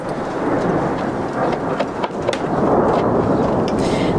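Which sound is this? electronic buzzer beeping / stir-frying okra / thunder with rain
thunder with rain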